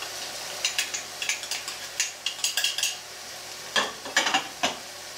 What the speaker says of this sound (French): là je mélange ma farine à mes morceaux de carde